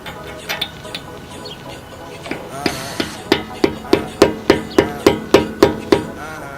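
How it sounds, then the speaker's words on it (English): A hammer drives a socket onto a car wheel lock. Sharp metallic strikes come close and loud, starting light and then settling into a steady, evenly spaced run of about a dozen hard hits. "and then hammer away"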